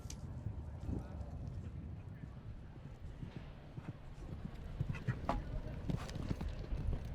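Horse hooves clip-clop on the ground at a show jumping event, an uneven series of thuds at moderate distance with crowd murmur and some talk underneath.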